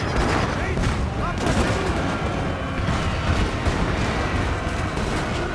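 Dense, continuous musket volleys and battle din from a Napoleonic-era engagement in Napoleon: Total War, rolling gunfire layered throughout without a break, with a voice speaking over the fighting.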